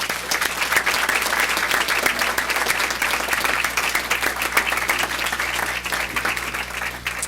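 Sustained, dense applause fills a Board of Education meeting room as the audience honours students and their coaches, loud and steady with no break throughout.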